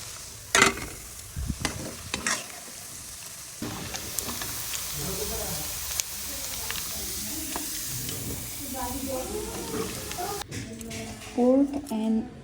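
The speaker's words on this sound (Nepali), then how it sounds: "मासु चाहिँ रातो भउन्जेल फ्राई गर्नुपर्छ है त, मजाले फ्राई गर्ने।" Pork and buffalo meat frying and being stirred in a pan for achar: a steady sizzle and hiss with scraping stirs and occasional clinks, close by, as a voice talks over parts of it.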